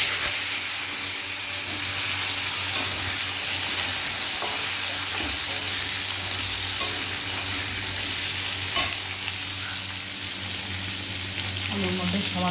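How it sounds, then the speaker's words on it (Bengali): Potatoes frying in a pan of oil, where fritters were fried just before, give off a steady, close sizzle with occasional stirring scrapes and no talk. "বড়া ভাজা হয়ে গেছে, এবার আলুগুলো দিয়ে দেবো।"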